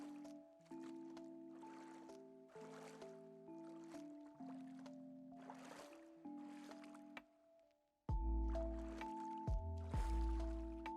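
Water sloshes and splashes in a cave pool in The Elder Scrolls Online, soft watery churning heard steadily under a droning musical score, which swells louder near the end.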